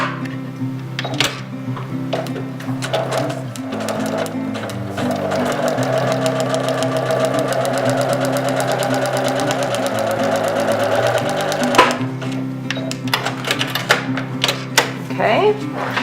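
A sewing machine stitches quilt pieces along a marked seam line, running in a steady, fast mechanical hum for most of the stretch. It starts and stops in short bursts near the beginning and end, loud and close.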